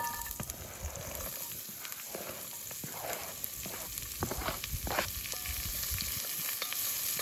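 Carrots, onion and garlic sizzling in a camping pan at a bush campsite, a steady close crackle with occasional stirring scrapes and rising hiss, no talking.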